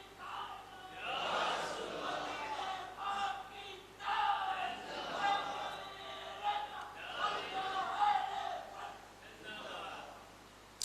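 A crowd at a religious gathering for a Quran exegesis lecture chants slogans in several swelling bursts of many voices, rising and falling in waves, heard fairly faint and somewhat distant.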